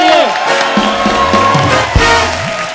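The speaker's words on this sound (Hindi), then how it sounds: "जोरदार तालियां मेरे लिए।" Studio audience on a Hindi television show breaks into loud cheering and whooping over clapping, with voices rising and falling in shouts close by.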